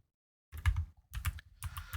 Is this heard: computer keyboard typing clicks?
yes